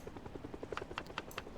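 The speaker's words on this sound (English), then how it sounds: "So here comes a helicopter." Helicopter in a zombie survival video game, a brief rhythmic rotor chop pulsing steadily and growing slightly, heard alone at moderate volume.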